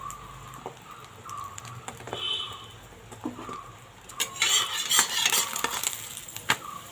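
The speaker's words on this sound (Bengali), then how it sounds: "তো এরকম করে করে আমি প্রত্যেকটা ভেজে নেব।" Egg rolls fry in a pan, giving a steady sizzle with scattered clinks and scrapes from a utensil. The frying grows louder and busier toward the end, with no talking.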